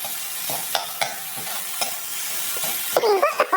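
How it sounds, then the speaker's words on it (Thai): Sizzling hot oil crackles as pounded chili paste is stirred and fried, with scraping of a utensil against the pan and a louder burst of sizzle near the end. "พอน้ำมันร้อนใส่เครื่องที่เราโขกไว้ลงไป ผัดให้มีกลิ่นหอมเลยครับ"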